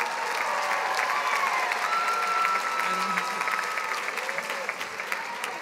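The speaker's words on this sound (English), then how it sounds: "Let's give a round of applause to the Master of Health Administration graduates." Sustained audience applause for Master of Health Administration graduates at a university commencement ceremony, a steady dense wash of clapping across the whole span with light crowd noise and a faint voice underneath.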